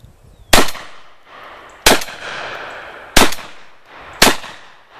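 Four loud, sharp blasts from a Franchi SPAS-12 shotgun firing low brass shells, spaced about a second apart outdoors, each followed by a short fading echo.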